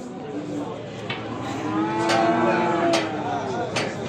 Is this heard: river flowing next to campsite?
no